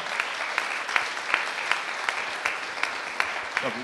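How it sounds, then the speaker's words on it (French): Audience applause following a talk on the négaWatt energy scenario, a dense steady wash of many hands clapping with sharper individual claps popping out at regular intervals, fairly close, with a brief voice surfacing near the end. "Vous êtes très applaudi en tout cas"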